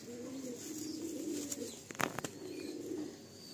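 A pair of pigeons coos in low, rolling calls nearby, with a few sharp clicks and knocks partway through over a steady background hum.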